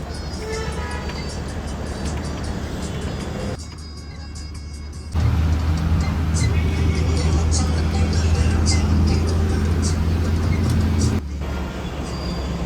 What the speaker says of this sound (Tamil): ரோடு நடு காட்டு உள்ள ஒரு சின்ன ரோட்டில் அழகான ஒரு பேருந்து பயணம்